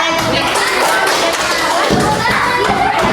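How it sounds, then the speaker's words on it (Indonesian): Classroom applause for a student group during a guidance counselling lesson, a mix of claps and thumps with voices of students talking over it, fairly loud throughout. "tepuk tangan dulu untuk kelompok 5"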